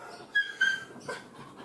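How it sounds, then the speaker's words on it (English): An excited dog whimpers and yips in short high bursts with soft panting between, fairly close but not loud, in an indoor room. "excuse my dog in the background,"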